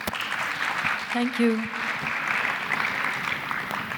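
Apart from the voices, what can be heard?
audience applause welcoming a panel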